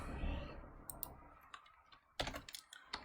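A few quiet, irregular keystrokes click on a computer keyboard as an answer is typed in. They come as scattered taps with a short cluster near the end.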